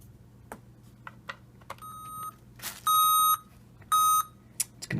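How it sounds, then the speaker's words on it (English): A Freedom Watch charging base plugged in and powering up gives three clear electronic beeps, a short one followed by two longer, louder tones, with faint clicks and a low steady hum underneath. "It's going to beep."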